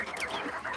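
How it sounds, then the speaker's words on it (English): Several backyard chickens cluck and chatter together in a busy, overlapping burst, close and fairly loud. "I've got some chickens in here too"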